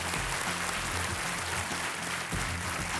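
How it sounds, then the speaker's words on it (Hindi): Studio audience applauding on a televised quiz show, a dense steady wash of clapping that holds at an even level for the whole stretch with no voices over it. "तालियां बजती रहें देवियों सज्जनों।"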